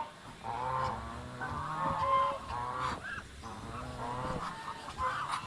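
Turkeys and ducks on a farm honk and squawk in repeated overlapping calls, moderately near and fairly loud, with no talk.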